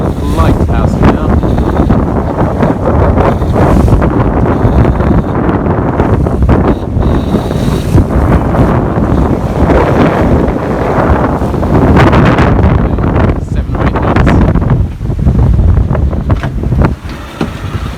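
Strong wind buffets the microphone in a steady, loud roar while sailing off the coast near Southwold Lighthouse, with water rushing and splashing against the boat throughout.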